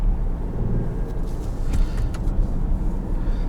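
A 2021 Dodge Durango GT fitted with a K&N intake cruises under partial throttle, its steady low engine and intake drone filling the cabin with a constant rumble and faint road noise, no talking.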